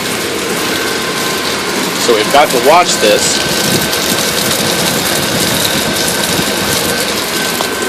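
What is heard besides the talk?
water tower pump running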